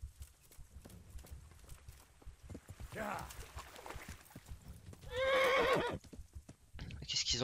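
Horse sounds in the medieval video game Kingdom Come: Deliverance, with scattered hoof clops and thuds, a rising snort, then a loud, shaky whinny near the end, followed by another brief neigh.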